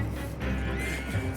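A horse whinnies in the Red Dead Redemption 2 video game, a steady mid-level call running about a second and a half over a low rumble of game ambience, with no talk.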